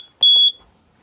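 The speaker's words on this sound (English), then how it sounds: "So we've got the alarm. Our exhaust temperature has also risen." A boat engine's temperature alarm gives one loud, piercing electronic beep lasting about a third of a second, then cuts to near silence.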